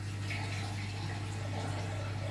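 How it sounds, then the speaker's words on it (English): Dishwater draining out of a sink, a continuous faint gurgling, trickling wash of water with a low steady hum beneath. "I'm draining out the water."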